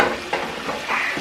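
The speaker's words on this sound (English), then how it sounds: "now that the lamb chops are deep frying" Lamb chops deep frying in hot oil give a steady close sizzle and crackle, with bursts of bubbling swelling at intervals over the continuous hiss; no talking.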